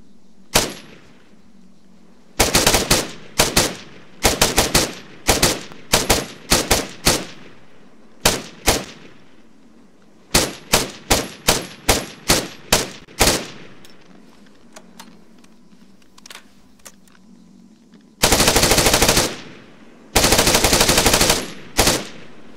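A video game mod's underwater variant of a 5.56mm assault rifle firing at about 857 rounds per minute: loud, close, sharp bursts of automatic fire, first short clusters and then two long sustained bursts, with quiet gaps between.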